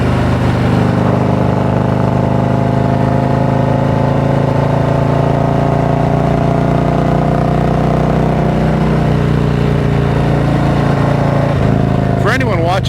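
A Harley-Davidson Street Glide ST motorcycle being ridden, a loud continuous engine drone with steady tonal exhaust hum close up, the pitch shifting slightly near the end.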